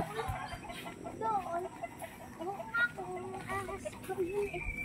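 Pure breed Alfonso line sweater chickens clucking nearby, soft intermittent clucks and murmurs from several birds mixed with people talking over them.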